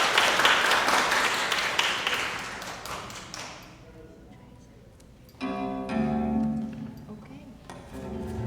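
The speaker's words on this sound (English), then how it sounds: "round of applause to them" Warm audience applause at a concert supporting Ukraine, a full dense clapping that swells then fades out over a few seconds into near silence before instruments begin playing.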